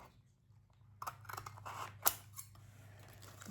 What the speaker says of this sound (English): I'm going to hold this while I go up and cut some of the sides off because they're pretty long